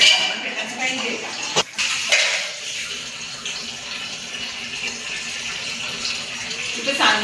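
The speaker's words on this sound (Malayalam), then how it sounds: "ചായയുടെ പാത്രം പെട്ടെന്ന് കഴുകി വെക്കാം." Tea vessels washed under running tap water at a kitchen sink: a steady gush of water with occasional clinks and knocks of dishes, close by and fairly loud.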